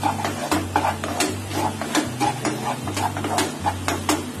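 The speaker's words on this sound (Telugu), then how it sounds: "అన్ని కలిసేలా తిప్పుకోవాలి" Egg curry being stirred with salt, chili powder and turmeric in a pan, a repeated scraping and clinking of a spoon against metal in uneven strokes over a low steady hum, close and fairly loud with no talking.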